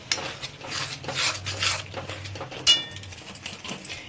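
A utensil stirs paste into egg curry with cauliflower in a metal pan, producing soft scraping and clinking against the pan, a faint sizzle beneath, and one sharper clank near the end, with no speech.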